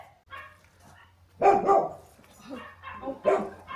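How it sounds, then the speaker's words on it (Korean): A dog barks in a narrow old-town street in Szentendre, Hungary, two or three short barks at moderate distance with quieter yips and whimpers between them. "개가 짖다"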